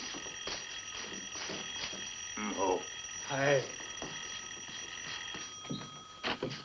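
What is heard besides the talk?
doorbell ringing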